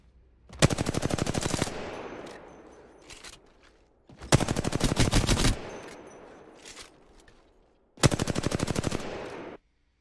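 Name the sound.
gunfire in Apex Legends video game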